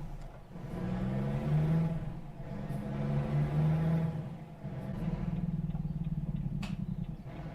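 Volvo truck with a twin exhaust setup in American Truck Simulator, its exhaust brake giving a steady deep rumbling drone that swells and eases, loud and continuous with no talk.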